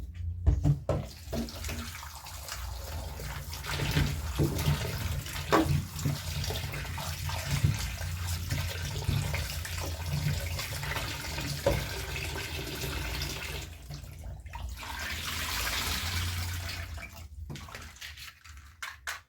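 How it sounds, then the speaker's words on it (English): An ingredient for uji, an African porridge, is rinsed in water under a running tap, with sustained splashing and sloshing over several repeated rinses, close and fairly loud, with no speech. "So now I'm going to wash this until the water runs clear"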